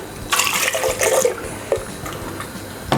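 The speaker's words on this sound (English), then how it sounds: "Going to add water to it." Water is poured into a pot of blended bell pepper, chili and carrot for palm nut soup, splashing in short gushing bursts with a brief pause between them.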